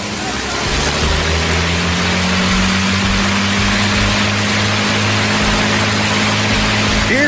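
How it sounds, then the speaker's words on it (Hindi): Four 1,500-horsepower Rolls-Royce Merlin engines of a Lancaster bomber drone in a steady, loud, continuous roar with a sustained low hum throughout. "डेढ़ हजार हॉर्स पावर वाले चार शानदार रोल्स रॉयस मर्लिन इंजन थे।"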